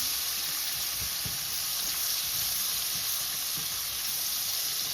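Half a small onion sizzles in a pot of hot oil, the start of a Guyanese-style snapper fish stew, with a steady, close, fairly loud frying hiss and faint stirring, no voices.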